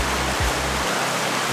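Wli waterfall in Ghana roars as a steady, dense rush of falling water, loud and close, filling the whole moment with unbroken broadband noise.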